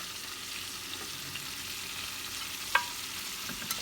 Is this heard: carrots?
yes